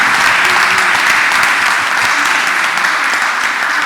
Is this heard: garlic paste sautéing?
no